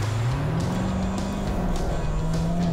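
A 2015 Corvette Stingray driving with a steady loud engine drone that rises slightly in pitch and holds, heard from close inside the car.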